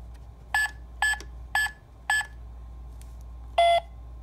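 A cartoon piggy bank's keypad gives four short electronic beeps at an even pace. After a pause a slightly longer tone follows, each one sharp and close against a quiet background hum.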